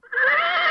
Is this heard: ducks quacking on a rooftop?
no